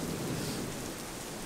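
Heavy thunderstorm rain in Lawrence, Kansas: a steady, dense wash of pouring rain with a low rumbling undertone, loud and continuous with no voices.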